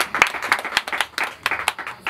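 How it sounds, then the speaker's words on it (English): A small group claps for Miss Gomez at a birthday gathering. The claps are sharp and uneven, spread across the whole stretch with a loose, irregular rhythm and no talking. "So we clap for you as the Miss Gomez."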